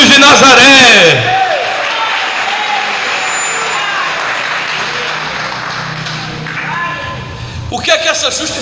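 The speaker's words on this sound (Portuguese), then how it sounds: "Aplauda Jesus de Nazaré" A church congregation at a Sunday morning worship service bursts into applause after a short spoken line, filling several seconds with a broad, even roar of clapping before the preacher's voice returns at the end.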